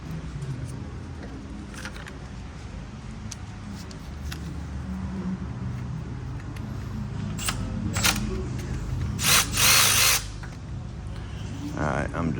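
A power tool backs off a bolt during timing chain work on a 2013 Ford Edge 3.5 L engine, giving brief close whirring bursts, the longest near the end, while someone talks throughout.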